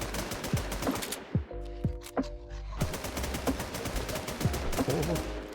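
Rapid gunfire rattles through a Warz zombie-shooter game session, fast repeated shots in bursts with a brief pause midway, loud and close under steady game noise.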